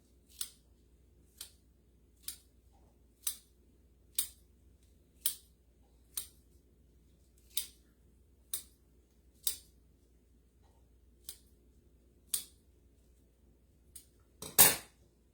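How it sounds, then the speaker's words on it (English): Knife chopping fresh basil on a cutting board, a dozen crisp evenly spaced taps about one per second, close and clean over a quiet room, ending in one louder sharper knock. "And I'm going to cut up my basil."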